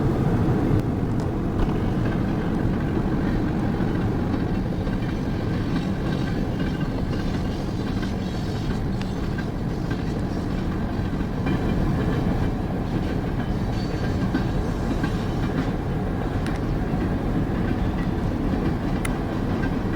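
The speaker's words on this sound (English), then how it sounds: "let's watch this train finish here" Long CSX freight train led by an SD40-3 locomotive rumbling past nearby, steady heavy rolling noise with faint clatter of wheels on rails, no voices.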